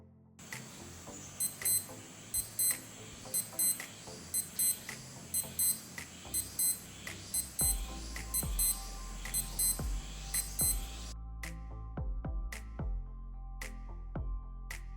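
A Skmei 1456 digital watch alarm sounds as a repeating series of thin, high electronic beeps in short regular bursts, fairly faint, then shifts into a different chirping pattern of quick beeps toward the end, with no voices.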